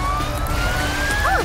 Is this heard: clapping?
no